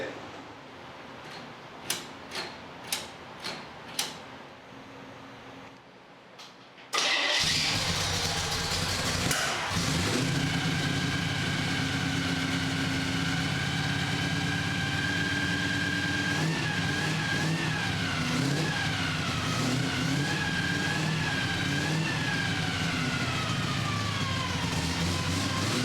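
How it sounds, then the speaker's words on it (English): A Chevrolet C10 truck with a 327 engine: a few sharp clicks, then the engine fires up close and loud and keeps running with revs rising and settling until the end. "I want to be able to get in, turn the key, push the pedal, and fire it up."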